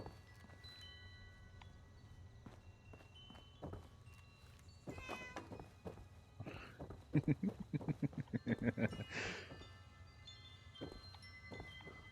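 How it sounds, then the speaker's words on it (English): A cat in the Fallout 76 video game meows in a run of short, repeated cries that grow louder toward the middle, over a quiet ambient background with light footsteps and clicks. "I heard the damn cat again."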